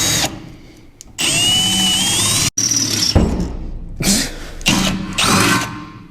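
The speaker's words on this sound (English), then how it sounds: "Who loves drilling holes?" A power drill whines loudly in several long runs, drilling holes in a car's metal frame, its pitch shifting and squealing as it bites into the metal, with brief pauses between passes.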